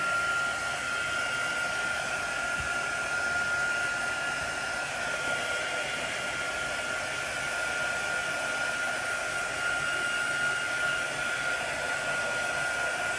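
A hair dryer runs steadily to dry a thick chalk paste transfer, one constant loud whirring blow with a high whine, unbroken from start to finish and with no talking.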